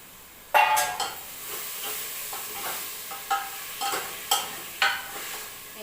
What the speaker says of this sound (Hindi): इन्हें अच्छे से मिक्स कर लेंगे